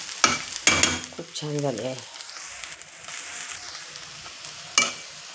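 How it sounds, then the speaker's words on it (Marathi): Potato chutney with coriander being sautéed in a pan, giving a soft, steady frying hiss with a few sharp utensil taps, while a person speaks briefly over it. "तर हे बघा मस्त अशी बटाट्याची चटणी, कोथिंबीर टाकली आहे, मस्त अशी परतली"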